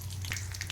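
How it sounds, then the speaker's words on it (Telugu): Tempering spices sizzling in hot oil for dal, a brief, steady frying hiss over a low hum with no voices. "పోపు వేగిపోయింది, అందులో వేసిస్తానండి నేను"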